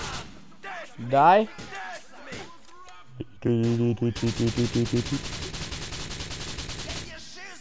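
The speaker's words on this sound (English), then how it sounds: "it just shot a whole clip and didn't even get a hit marker" Gunfire in GTA IV comes as a fast, rattling automatic burst of evenly spaced shots lasting a couple of seconds, after someone shouts and speaks over the action.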